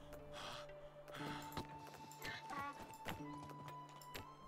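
In the video game Medieval Dynasty, a donkey's hooves clip-clop in a steady, fairly quiet walking rhythm against a busy layered game soundscape, with a voice speaking over it.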